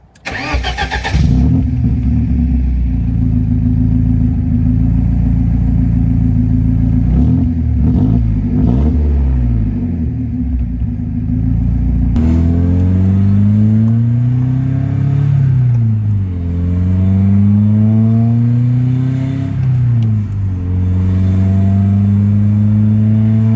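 A BMW E30 with its muffler removed cranks and catches, settling into a loud, raw, close-up idle before a series of rising and falling revs that blip up and drop back repeatedly; no talking.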